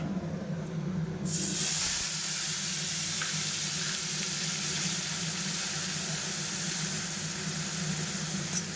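Onion paste, tomato paste and mixed spices fry in a pan with a loud, continuous hissing sizzle that holds steady from start to finish.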